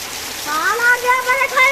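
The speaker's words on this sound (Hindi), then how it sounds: "अरे बहुत जोर के बारिश आ गया" Heavy rain falling steadily as a constant hiss of broadband noise, with a voice talking and calling over it.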